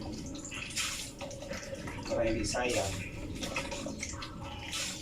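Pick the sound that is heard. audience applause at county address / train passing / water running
water running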